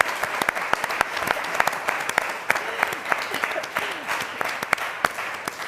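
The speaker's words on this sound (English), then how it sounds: "I would like all of you to give her a round of applause" An audience gives a round of applause, a fairly quiet patter of many hands with sharper individual claps standing out, continuing steadily with faint voices underneath.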